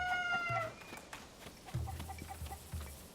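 Cuccos in Zelda: Tears of the Kingdom cluck in short bursts near a pen struck by a falling ring ruin, with a high tonal game chime at the start and soft scattered clucks and thuds afterward.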